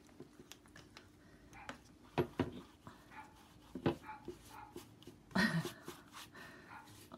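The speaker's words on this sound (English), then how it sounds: "you can hear the dog barking" A dog barking and yapping in short bursts, heard fairly faintly from a distance through an open window, with some whimpering and quiet room noise between bursts.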